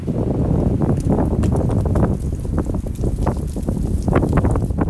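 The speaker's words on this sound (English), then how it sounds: "it's a little windy today" Steady broadband wind buffeting a nearby microphone in a late-April flower garden, a constant low rumble with gusty flutter throughout and no talking.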